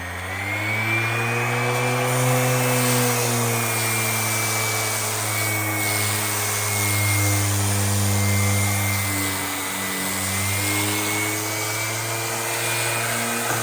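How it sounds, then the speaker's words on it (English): A steady, droning electric motor whine with a constant hum, running continuously up close with slight shifts in pitch: a handheld electric sander sanding wood. "we're using a very simple handheld sander here"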